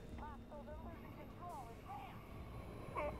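A helicopter in Battlefield 2042 drones as a steady rotor hum behind a busy battle, while players talk excitedly over it throughout.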